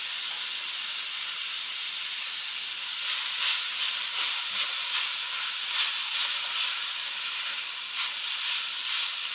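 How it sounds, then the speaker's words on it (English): Steady hiss of cumin, thyme and saffron sizzling in hot oil in a pan, a continuous bright frying sound that swells slightly midway and stays fairly even throughout. "Then I toss in those spices, the cumin, thyme, and saffron."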